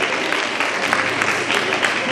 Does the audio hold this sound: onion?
no